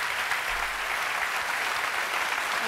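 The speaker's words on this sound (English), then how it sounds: "The crowd's just like comfortable and feels like they need to clap." A studio audience claps steadily, a dense, even patter of many hands holding at a moderate level without pause.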